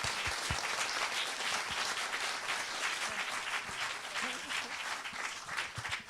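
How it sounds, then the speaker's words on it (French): Steady, fairly distant applause from a conference audience, a continuous crackle of many hands clapping for several seconds with a faint murmur of voices beneath. "J'ai envie de les applaudir très fort"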